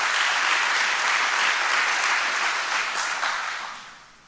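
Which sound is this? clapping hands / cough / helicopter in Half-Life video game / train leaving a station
clapping hands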